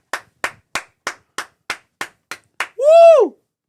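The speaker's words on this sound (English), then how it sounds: "Round of applause again." Nine separate hand claps in an even rhythm, close and sharp, end in a rising and falling whoop. It sounds like a small podcast crowd applauding the new Miss Rhode Island USA.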